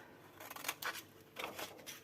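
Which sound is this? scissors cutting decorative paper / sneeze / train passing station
scissors cutting decorative paper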